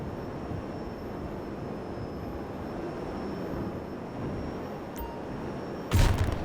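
A video game flying vehicle lands on a helicopter pad like a helicopter: a steady roar of engine and rotor-like noise holds throughout, with a brief louder rush and thump near the end as the craft sets down.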